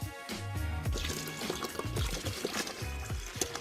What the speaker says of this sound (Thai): ด้านล่างมีช่องระบายน้ำออกง่าย เมื่อเลิกทำน้ำแข็งแล้ว